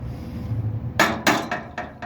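A hammer beats out the curve of a clamped steel fender on a 1929 Chrysler, four sharp metallic strikes spaced about a quarter second apart after a low hum, close and loud.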